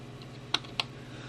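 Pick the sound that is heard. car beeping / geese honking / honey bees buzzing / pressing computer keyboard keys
pressing computer keyboard keys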